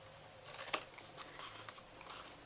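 Scissors cutting paper for a lemon gift box, a few faint, close snips and crisp paper rustles in a quiet room.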